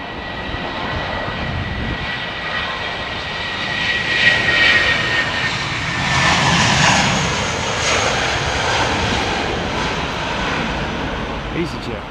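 EasyJet airliner jet engines at Heathrow Airport, a broad steady roar with a swelling rise in the middle as the aircraft passes, with voices talking over it throughout.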